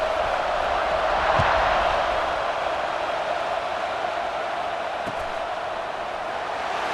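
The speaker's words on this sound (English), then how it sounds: "this crowd is feeling themselves after that last drive" A stadium crowd in the College Football 26 video game makes a steady, loud, wash-like roar of cheering that holds evenly for several seconds with no clear breaks.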